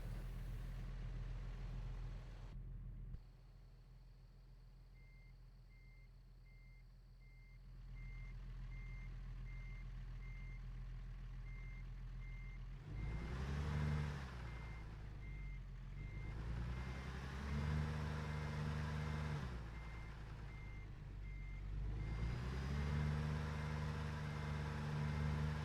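In American Truck Simulator, a truck idles with a deep engine rumble, then reverses with a regular series of electronic backup beeps while the engine note swells and dips through several pushes, with no one talking.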